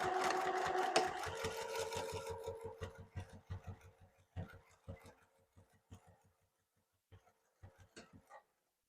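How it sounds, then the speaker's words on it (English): A domestic sewing machine runs a steady rapid stitch along the edge of a fabric packing cube, then slows into separate short bursts and single needle strokes before stopping, close and clear with no talk. "So I'm stitching below the zipper"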